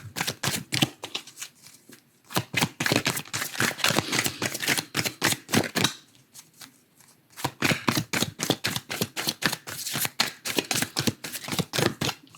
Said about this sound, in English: So I shuffle until the cards fly out of the pack as necessary